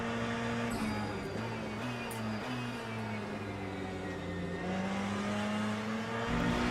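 A Ferrari race car engine drones in the sim racing game Le Mans Ultimate at Interlagos. The sustained tone hums steadily and rises and falls gently with throttle, continuous and moderately quiet.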